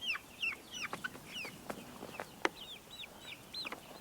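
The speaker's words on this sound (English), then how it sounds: "did you ever think you would have 83 chickens, Ransom?" A flock of 83 chickens clucks and chatters nearby, overlapping short calls and squawks in an irregular, busy stream.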